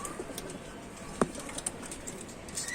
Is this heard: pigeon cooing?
yes